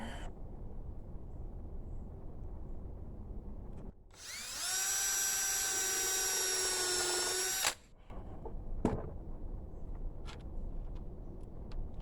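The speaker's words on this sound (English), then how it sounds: "I can drill a new hole with that clamp knot there." A power drill bores a new hole for a French cleat tool hanger in a garage, a single steady high-pitched whine of about four seconds, loud and close, set between quiet handling noises.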